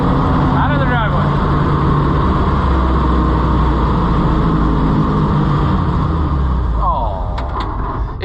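An Oliver 7300 combine with a Chrysler 318 V8 engine drives out of a driveway, a loud, steady low engine drone running throughout with brief higher whines near the start and end.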